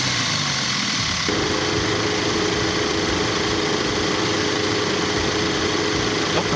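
An Audi A4 engine idles steadily and loudly up close with the AC off, a constant droning hum with a slight shift in pitch after the first second.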